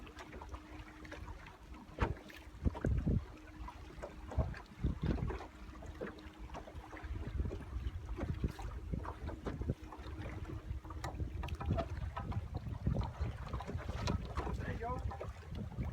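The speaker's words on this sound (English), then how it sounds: "Holding the boat with the wind blowing." Wind blowing across a fishing boat out on the water while catfishing, a steady rushing roar with buffeting microphone gusts, water and hull noise, and occasional knocks throughout.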